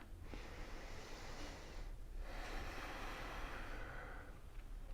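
Two slow, gentle breaths during a seated neck and shoulder yoga stretch: a soft airy inhale and then a longer exhale, each close and quiet, with a short pause between them and no talking.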